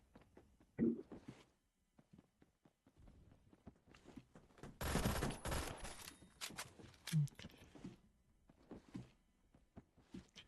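An M60 open-bolt machine gun in the game Phantom Forces lets off a dense burst of rapid fire in the middle, framed by scattered thuds and footsteps, fairly quiet overall.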